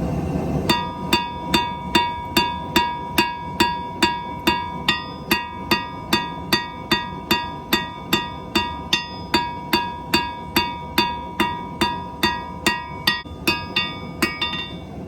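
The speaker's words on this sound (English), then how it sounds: "all I'm doing is beating this up a little bit, and I'm going to start drawing this into a taper to make a hook" A hammer beats heated steel on an anvil at a forge, drawing it into a taper for a hook: about thirty evenly spaced, loud, ringing metallic blows, close and steady, with no talk.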